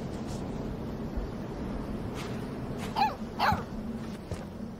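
A dog in Life Is Strange 2 gives a couple of short yips and whimpers, close and distinct, over a low steady background hum.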